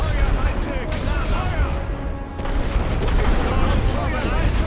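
Artillery bombardment in the Great War Western Front strategy game, a dense barrage of overlapping booms and distant shell blasts rumbling continuously with a brief lull midway before the shelling swells again.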